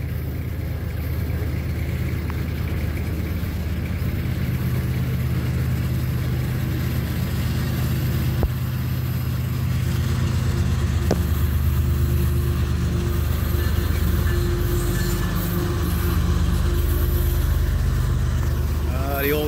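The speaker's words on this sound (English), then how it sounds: "One day you won't even hear that internal combustion engine sound of classic diesel." A classic CP diesel locomotive rumbles at a station in Dorval, Montreal, its low engine drone steady and loud throughout, swelling slightly toward the end, with people talking over it.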